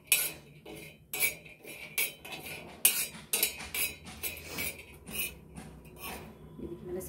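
Dried harad (myrobalan) is dry-roasted and stirred in a pan, a spoon scraping and clinking against the metal in irregular close strokes with short pauses between them.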